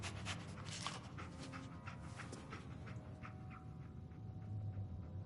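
Dogmeat, the dog companion in Fallout 4, pants steadily and close by, its quick breaths running over a continuous low game ambience without any speech.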